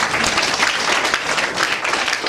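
A church congregation claps together in dense, even applause, loud and close throughout with no voices over it.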